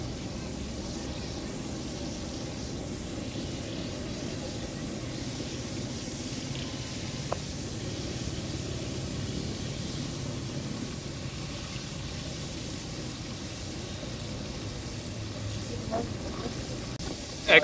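Boneless chicken pieces sautéing in hot cooking oil at a street-style stall, a steady broadband sizzle and hiss running continuously throughout with a couple of faint clicks.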